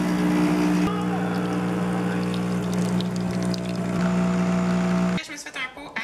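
An espresso machine brewing coffee hums and pumps steadily, a loud continuous drone with a trickling undertone that runs for about five seconds before cutting off, followed by a few clattering handling sounds.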